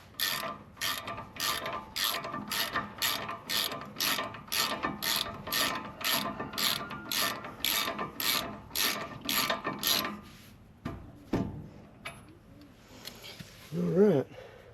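A ratchet wrench clicks rapidly in steady, evenly spaced bursts while tightening bolts on the brake caliper of a 2008 Ford F250, close and clear, then stops, followed by a few clanks and a brief voice.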